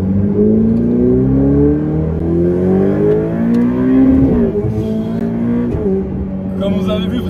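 Ferrari 488 Pista V8 engine revving hard toward 8000 rpm, repeated rising howls climbing quickly then dropping, loud and close throughout, with a person talking over the engine.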